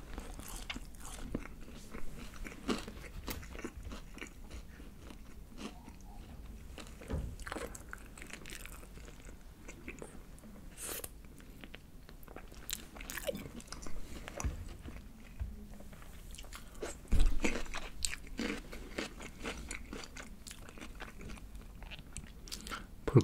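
Close, steady crunching bites and chewing of crispy BBQ Golden Olive fried chicken, continuous loud crackles over about twenty seconds with no talking.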